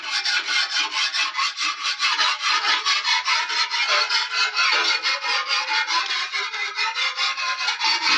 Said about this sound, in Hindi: रेती लगा रहे हैं